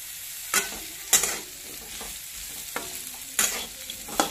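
Sliced bitter gourd fries with masala in a pan, giving a low sizzle broken by sharp, close spatula scrapes at irregular intervals.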